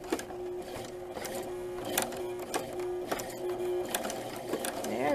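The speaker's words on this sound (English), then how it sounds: "I'll start sewing with the motor" A sewing machine motor stitches through thick dirndl fabric in a steady, rapid, rhythmic rattle of needle strokes, close and fairly loud, with a voice talking over it.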